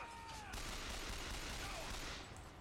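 Repeater gun fire from BioShock Infinite rattles in a dense, continuous burst of rapid shots, loud and unbroken throughout, with brief whistling tones threaded through the barrage.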